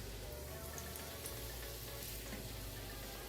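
Chicken frying in oil in a frying pan, a steady dense crackling sizzle, close and continuous, with no one speaking over it.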